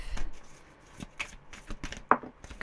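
Tarot cards being shuffled in quick bursts of papery riffles and soft slaps, close and fairly quiet, with a few sharper snaps standing out and no talking.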